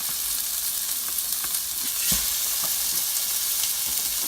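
Chorizo sausage fries in a pan for jambalaya, giving a steady close sizzle and crackle with a few soft stirring knocks, no voices.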